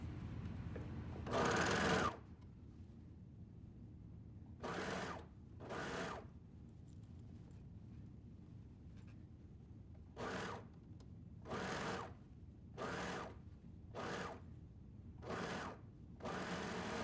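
A sewing machine runs in short bursts while stitching a sleeve cap into the armhole of a coverall, with one longer run followed by several quick stitching spurts separated by pauses, close and clear.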